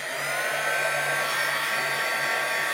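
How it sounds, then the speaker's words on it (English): A heat gun on its lowest setting blows a steady, even whoosh with a faint hum, drying a paper origami jewellery box, continuous and close with no talking. "I use a little the heating gun on the first setting"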